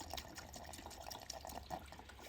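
Old coolant drains from the cooling circuit of a Yamaha MT-09 motorcycle, a steady faint trickle with small drips, running continuously with no talk.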